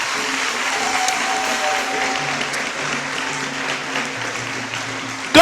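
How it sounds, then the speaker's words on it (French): A church congregation in Côte d'Ivoire applauding during a sermon, a dense continuous clapping wash under sustained organ or keyboard tones, ending in a sudden louder burst. "On va applaudir Dieu pour ça."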